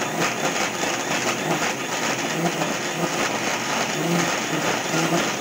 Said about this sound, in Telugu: మిక్సీకి అయితే ఈ విధంగా పట్టుకున్నాను